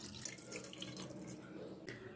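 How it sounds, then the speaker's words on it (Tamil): Cold tap water runs steadily over boiled almonds in a strainer, a continuous splashing rinse heard up close with no talk. "இப்போ இதை ஒரு பச்சை தண்ணியால் நல்லா வாஷ் பண்ணிக்கலாங்க."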